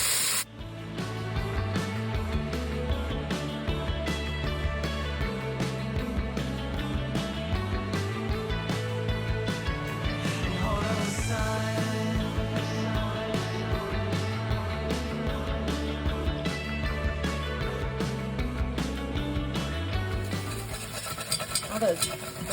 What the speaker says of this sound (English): I just added some liquid from our stock over here, and I'm going to whisk this up